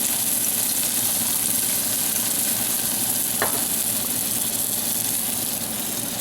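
Beef and its marinade juices in a hot roasting pan make a loud, continuous sizzle with a single short knock of a utensil midway.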